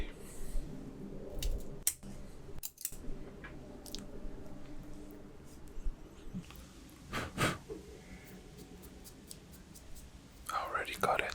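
A cigar being cut by hand in a quiet close-up setting, with soft crisp snips and squishy rustling broken by a few sharper clicks, while a person whispers softly throughout.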